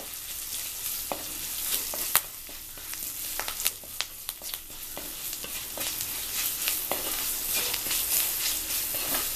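Garlic sizzles and fries in hot oil in a pan while rasam is being cooked, a steady crackling hiss broken by sharp pops and spatters, close and fairly quiet, with no talking.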